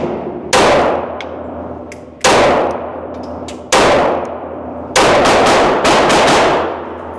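Glock pistol shots fired while zeroing an Aimpoint COA red-dot sight: loud, sharp single reports with ringing decay, first spaced about 1.5 seconds apart, then a quicker cluster of several shots near the end.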